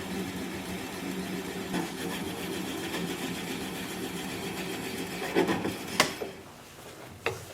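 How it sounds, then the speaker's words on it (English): A wood lathe spins as a gouge's bevel rides against the bottom of a turned bowl, giving a steady scraping, rubbing hum with a few sharper knocks and catches near the end as the cut breaks through. "I'm going to apply the bevel of the gouge against the bottom of the bowl."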